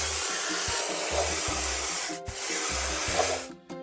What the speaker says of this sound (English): Let's point the sprayer at the stain and paint it over.